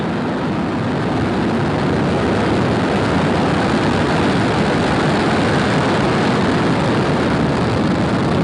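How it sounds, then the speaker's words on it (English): A SpaceX Falcon 9 rocket lifts off from Cape Canaveral with a loud, continuous, broadband roar that fills the whole stretch steadily and does not fade. "Ignition and liftoff. Go Falcon, go Sirius."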